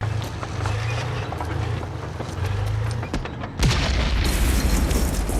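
A sticky bomb explodes against a tank during a World War II battle scene in the 1998 film Saving Private Ryan, a heavy boom bursting in suddenly after steady rumbling combat noise and leaving a loud, dense roar.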